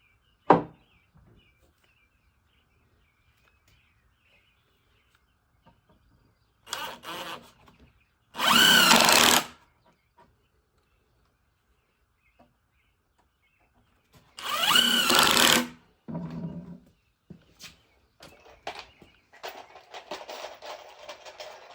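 A power drill whirs in a few short, loud bursts separated by quiet pauses, followed by scattered clicks and light handling noises.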